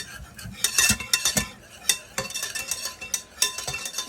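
Raspberry gelatin mixture being stirred in a pot with a utensil, close scraping and clinking strokes in an irregular rhythm over a faint background hiss.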